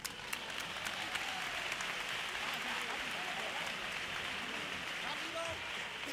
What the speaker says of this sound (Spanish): fuerte aplauso a los voces